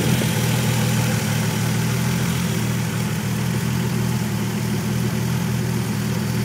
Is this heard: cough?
no